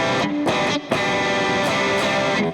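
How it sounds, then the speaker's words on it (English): Distorted, high-gain electric guitar tone from a stored preset on a Getaria Cube Baby combo amp, sustained, thick chords with a few short breaks in between, loud and close with no talking. "number 3 would be a gain sound that I had stored earlier"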